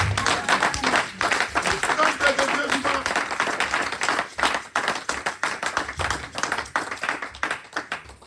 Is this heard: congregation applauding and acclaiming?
yes